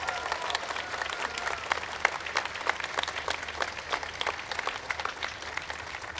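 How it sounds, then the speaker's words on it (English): Applause from an audience at a festive procession and concert, a steady dense patter of many hands clapping throughout, moderately distant with no talking over it. "I think you need to applaud yourselves"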